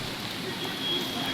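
Sudden rain from a mini storm falls in a garden, a steady close patter and hiss of drops on surfaces with no break.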